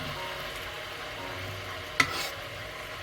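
Large sweet onions dropped into a pan on medium-high heat, giving a steady soft sizzle with a sharp clatter partway through, close and fairly quiet, with no one talking.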